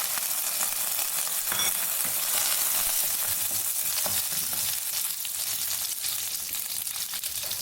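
Curry leaves hit hot oil in a pan for a capsicum and egg stir fry, giving a loud, steady sizzle and crackle that runs unbroken throughout with no voices.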